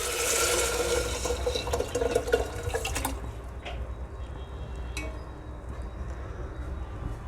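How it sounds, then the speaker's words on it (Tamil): Dissolved turmeric mixture for milagu rasam poured into the tempering, a splashy liquid pour for about three seconds, then quieter sizzling and faint drips. "நான் கரைச்சி வச்சுருக்க பொருளை இப்போ எல்லாமே இந்த தாளிப்பு பொருளோடு சேர்த்துக்கலாம்"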